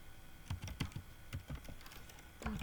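Typing on a computer keyboard while entering a name into a database table, quick uneven clusters of soft key clicks, fairly faint and close, with no talk.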